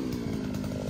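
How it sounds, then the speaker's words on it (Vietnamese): A Takyo TK3B push-cart earth auger with a 20 cm bit drills holes for pepper-vine support posts, its engine giving a loud, continuous, chainsaw-like drone close by. "hôm nay chúng tôi lại dùng máy khoan đất đẩy tay Takeo TK3B để khoan lỗ trồng trụ tiêu"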